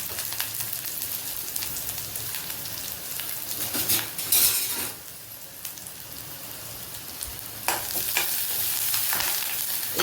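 Onion, dried red chillies and curry leaves sauté in oil in a pan after mustard seeds pop, for semiya upma, giving a steady close sizzle broken by scraping stirs, with no talk.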